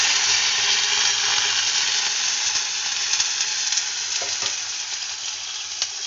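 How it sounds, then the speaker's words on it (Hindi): Intense, continuous crackling sizzle as milk hits hot oil with vermicelli for sheer korma, with a few sharp pops and faint clinks of a utensil. "असल में इसमें ऑयल था, इसलिए मैंने मिल्क शामिल की है, तो इस तरह की आवाज़ आई है।"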